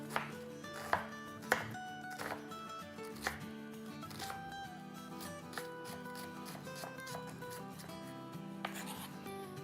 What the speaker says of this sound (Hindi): ये थोड़ा सा इस तरह से स्लिट कर लेते हैं और ये काट लेंगे